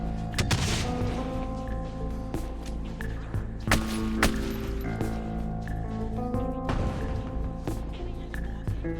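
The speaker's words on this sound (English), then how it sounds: "I can't help showing the biggest explosions on the biggest hordes" Explosions tear through zombie hordes in Project Zomboid as a string of sharp blasts and crackling bursts, some in quick pairs, ringing over a sustained musical drone.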